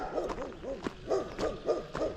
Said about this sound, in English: Oh, there's that dog that's been barking.